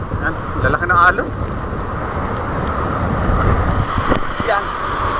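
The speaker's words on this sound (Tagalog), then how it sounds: "Yan, lalaki ng alon." A small boat pitches through big waves at sea, with a constant loud rumble of rushing water and wind against the hull and brief voices breaking through now and then.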